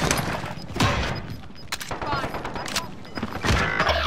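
Hostile gunfire in a first-person shooter video game, scattered sharp shots and bursts with thuds, mixed with game sounds and brief talk.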